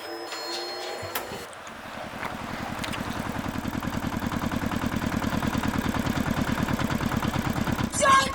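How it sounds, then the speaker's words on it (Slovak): Tractor engine starting up and then running with a steady, rapid chugging pulse that grows louder and closer, with some clatter and background noise early on. "Traktor!"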